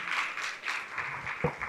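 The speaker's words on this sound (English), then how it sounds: "Can I get everyone to give all of our candidates, once again, a round of applause?" Faint, steady applause and clapping from an audience at a sorority candidates' event, a soft continuous patter heard from a distance with no voices standing out.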